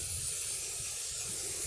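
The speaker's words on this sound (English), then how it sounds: "And then spray paint everything down here." A can of spray paint hisses in one continuous, close burst while coating the lower part of a handmade tree prop, steady and loud with no talk.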